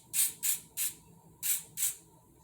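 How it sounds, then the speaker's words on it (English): EBIN New York lace spray hissing out in five short, strong bursts at an even rhythm, close and fairly quiet, with no voices. "Be careful with this because this sprays out really strong."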